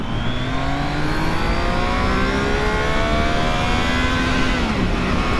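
A 2025 Triumph Trident 660, A2-restricted version, accelerates at full throttle in first gear, its three-cylinder engine note climbing steadily and loudly with heavy wind rush throughout, close up and with no talking.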